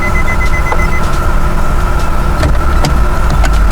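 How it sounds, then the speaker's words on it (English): Warning chime from an Infiniti G37 parked in neutral, a loud steady electronic beeping repeating over a constant hum of the car's interior, with no talking. "where it's beeping all the time for me"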